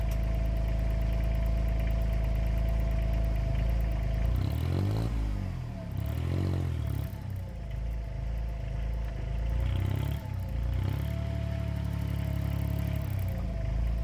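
An Arduino-controlled, AMR500-supercharged Kubota diesel engine runs steadily with a close, loud, clattering idle, swelling in a few brief revs before settling back to its even rumble.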